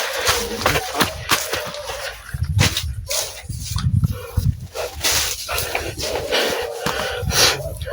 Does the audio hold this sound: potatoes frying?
no